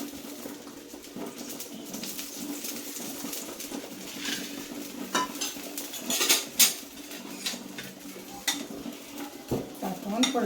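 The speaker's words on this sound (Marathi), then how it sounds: "आणि हे बघा, असं वरून तूप लावायचं ब्रशने" A brush spreading ghee over a rava jowar dosa on a hot pan, soft steady sizzle with faint scraping and light clinks.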